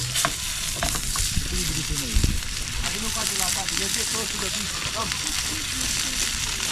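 Bean sprouts sizzle and crackle steadily in hot oil at an outdoor picnic, with stirring clatter and voices talking over the frying throughout.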